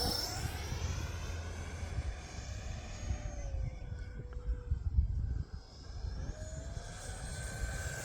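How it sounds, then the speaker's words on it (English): An Arrows L-39 50mm EDF model jet flies at about three-quarter throttle, a steady high-pitched ducted-fan whine with a shifting pitch as it passes, loud and continuous throughout, without talk. "This airplane is screaming."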